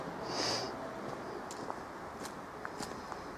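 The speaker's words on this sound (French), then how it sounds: "j'arrête pas de renifler" A person sniffs near the mic, a short nasal intake followed by a few quieter sniffs and light footsteps, with faint ambient noise inside an abandoned abbey.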